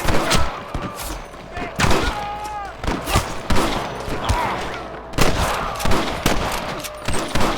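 Rapid bursts of gunfire in a Red Dead Redemption shootout, loud sharp cracks in quick irregular volleys with short gaps, mixed with shouting voices.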